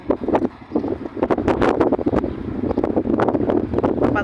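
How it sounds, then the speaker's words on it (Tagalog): Strong wind blows hard during a dust storm, a loud, roaring rush with gusts that buffet the microphone in uneven surges, close and continuous. "Ang lakas ng hangin."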